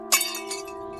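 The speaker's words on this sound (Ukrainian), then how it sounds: "Це був звук розбитого скла." Sharp crash of breaking glass as a sound effect, with a bright initial shatter followed by a few tinkling fragments over a steady low hum.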